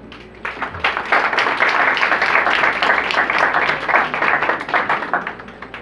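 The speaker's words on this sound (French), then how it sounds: "Je veux parler du sociologue Omar Gara, que je vous demande d'applaudir ici." Audience applause at a Jacmelitude cultural event in honor of sociologist Omar Gara, a dense, steady burst of many hands clapping that holds for several seconds before easing off.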